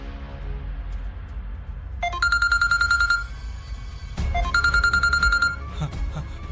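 A mobile phone rings with an incoming call: two bursts of a bright electronic ringtone, separated by a short pause, over low room noise.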